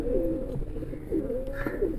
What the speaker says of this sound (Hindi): बहुत ही एंटीक पेयर है जी ये सफ़ेद कबूतरों